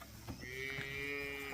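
A single faint moo from a dairy cow during morning milking in a barn stanchion, low and drawn out over quiet farm background noise.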